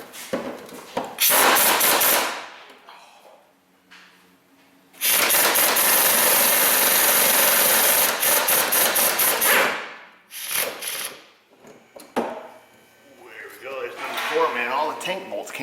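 Fuel tank bolts being removed from a Chevrolet Malibu with a power tool, loud bursts of harsh rattling impact noise separated by quieter pauses, close to the microphone, with a voice speaking between bursts.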